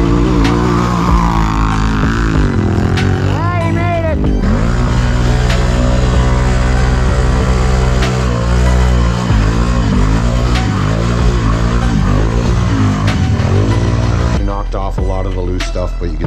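A Can-Am Renegade ATV engine runs loud and close, revving up and down repeatedly with a throaty, pulsing drone throughout.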